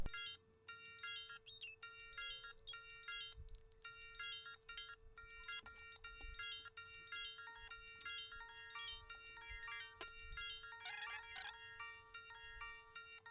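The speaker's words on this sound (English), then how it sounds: "I got a phone call." A phone ringtone plays a repeating electronic melody at moderate volume, looping steadily over a faint background hum.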